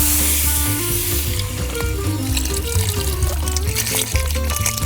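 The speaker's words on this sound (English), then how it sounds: "Now we're going to add our chicken stock and a little bit of water." Chicken stock and water pour into a pot at a camping cookout for a Cajun seafood boil, a loud, steady, close splashing and gurgling pour under a faint sizzle.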